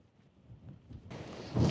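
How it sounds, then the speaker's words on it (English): Gusting wind on the Scottish east coast rumbles against the microphone and turns into a loud, broad roar near the end, with no one speaking. "It's incredibly windy, so hopefully you can hear this okay."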